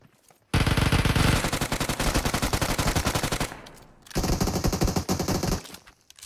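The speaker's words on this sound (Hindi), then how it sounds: "वो मेरे पे फायर कर रहा था" Rapid automatic gunfire in the mobile battle royale game BGMI, two long loud bursts of dense rattling shots separated by a brief lull.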